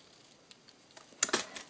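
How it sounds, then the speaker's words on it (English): Scissors trim the ends of a paper-punched daisy topiary decoration, giving a few quick, close snips after a faint earlier click, with no talking. "And then just trim your ends at a nice angle."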